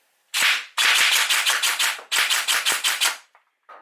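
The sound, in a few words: gel blaster shooting gel balls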